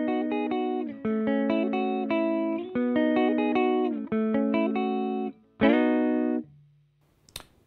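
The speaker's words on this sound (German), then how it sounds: "Ich zeige euch das jetzt im Single Notes Riffing mal ohne Hall." A dry electric guitar plays single-note riffs with no reverb, distorted and clipped, in choppy repeated phrases with short gaps, then a final sustained note that cuts off abruptly.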